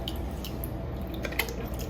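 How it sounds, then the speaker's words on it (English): Canned Rotel diced tomatoes plop and squish into a bowl of eggs during breakfast prep, a brief wet pour with a few soft splats near the end. "I'm just going to go ahead and dump this Rotel right into my eggs."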